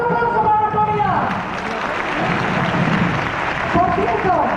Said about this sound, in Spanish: ¡Un fuerte aplauso para la autoridad!